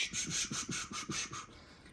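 Fret leveling on a nickel-fretted Telecaster-style guitar, 400-grit sandpaper taped to a level, gives a close, dry rasping scrape in about seven quick back-and-forth strokes that fade out near the end.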